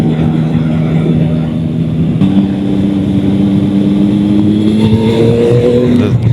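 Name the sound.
Yamaha R9 motorcycle riding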